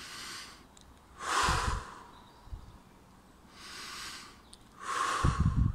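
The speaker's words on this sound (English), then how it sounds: "Take a few deep breaths." Slow deep breaths taken during a grounding exercise outdoors, with two long inhale-exhale cycles of broad airy rushing, each ending in a louder close exhale, separated by quiet pauses.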